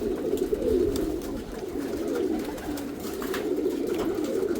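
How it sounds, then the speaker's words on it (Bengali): Continuous low cooing from a group of male and female pigeons, several birds overlapping in a rolling murmur close by, with light rustling above it. "নর্মাদি কবুতরগুলো একসাথে ছাড়লাম"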